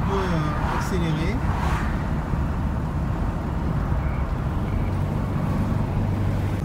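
A 1962 Porsche 356 cruises at about 70 km/h, its engine a steady low drone with road rumble heard from inside the car, continuous and fairly loud throughout.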